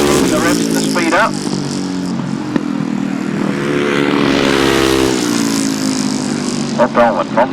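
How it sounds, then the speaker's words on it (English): Grasstrack racing motorcycles roar and rev hard as they chase each other round the turns, a loud continuous engine drone rising and falling in pitch, with a commentator talking over it throughout. "Got the motor on early, chasing after Bob Dolman. Bob Dolman putting the revs and the speed up"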